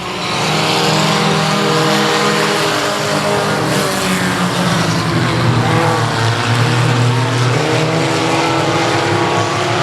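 Race cars thunder around the oval at South Texas Speedway, a loud continuous roar of several engines with shifting pitches as the pack runs high on the banking and pushes toward the front.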